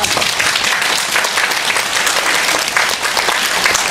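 A church audience at an evening mental health seminar bursts into loud, sustained applause to welcome a guest psychiatrist, a dense, steady clapping from many hands filling the room.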